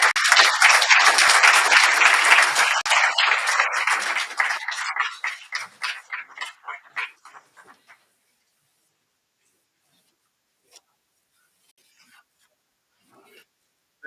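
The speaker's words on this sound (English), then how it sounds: "Another round of applause for the Minister." Audience applauding a minister at a municipal broadband and digital skills event, loud steady clapping that thins out into scattered claps and then fades to near silence.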